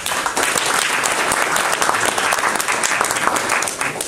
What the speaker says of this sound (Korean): 돌아가신 우리 이기학, 변단흠 우리 회장님들 두 분 저 자리에 계신데 환영의 박수를 한번 부탁드리겠습니다.